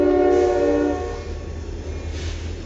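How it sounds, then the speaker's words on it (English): A train horn blares briefly at the start, then fades as the train rumbles past nearby. "You can hear the train going by."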